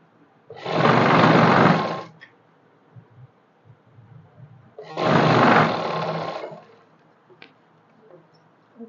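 Sewing machine stitching a salwar in two loud bursts of rapid whirring, each about a second and a half long, separated by quiet pauses with faint handling clicks.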